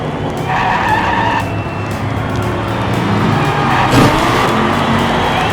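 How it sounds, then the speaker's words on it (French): A Dodge race car powers out of the final corner and overtakes a Ford on the inside, its loud, steady engine roar mixed with screeching tire skids during the close racing. "une belle accélération de la Dodge sur le dernier virage qui dépasse la Ford à l'intérieur"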